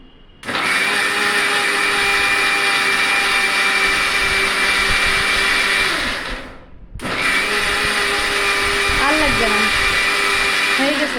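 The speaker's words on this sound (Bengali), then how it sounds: "তো তোমাদের ভাই এখন আমার পেঁয়াজ ব্লেন্ডার করে দিচ্ছে দেখো" A Bajaj blender grinds onions with a loud, close, steady whir that cuts out for a moment, then starts again and runs on to the end.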